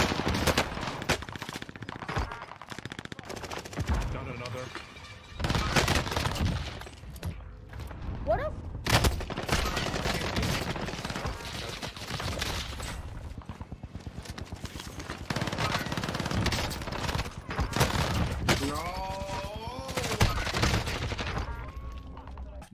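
Rapid SMG gunfire from the RA 225 in the shooter game Warzone, loud repeated bursts with sharp transients spread across the clip, mixed with other in-game clatter and effects.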